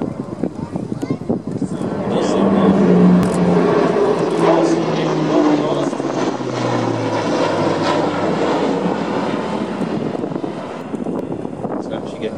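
An Airbus A400M Grizzly turboprop at the Farnborough Air Show flies past downwind, its loud propeller drone swelling and holding steady with a shifting engine tone, roughened by wind noise on the microphone.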